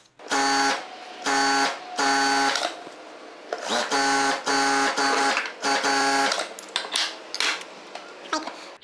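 A sewing machine stitches a blouse close by in loud mechanical bursts of rapid whirring, separated by short pauses, with no talk over it.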